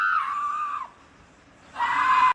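A person lets out two loud, sustained screams, each lasting under a second with a brief quiet gap between them, close and alone with no other voices.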